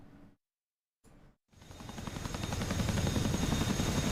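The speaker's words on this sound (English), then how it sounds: "Here's the Chinook" Chinook helicopter in DCS World, a low rotor thrum with rapid chopping pulses that swells in after a couple of short gaps and builds to a steady, fairly loud drone.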